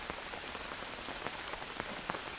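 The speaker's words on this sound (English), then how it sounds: "just as I was saving, the rain started" Rain in the jungle survival video game Green Hell, a steady hiss of rainfall on surfaces with scattered sharper drop taps throughout and no voices.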